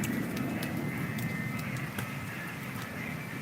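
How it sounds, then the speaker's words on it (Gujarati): Fighter jets flying overhead in a village during rain, heard as a steady, broad, distant roar that holds evenly throughout, with faint chirps on top. "બે જેટ ગયા ફાઇટર જેટ અમારે અહીંથી રેગ્યુલર નીકળતા જ હોય અવાજ તમને આવતો હોય છે કદાચ"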